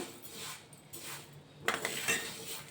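Horse gram dry-roasts in a pan, and quiet scraping and rattling come as the seeds are stirred. A few sharper metallic clinks follow midway, with no speech.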